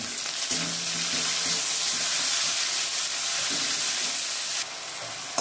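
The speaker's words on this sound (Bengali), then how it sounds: "এবার আমি টমেটো কুচিগুলো দিয়ে দেবো, এটাকে একটু ভেজে নেব।" Chopped tomatoes frying in oil in a pan for a tilapia fish curry, giving a loud, steady, close sizzle that runs unbroken for the whole stretch with no talking.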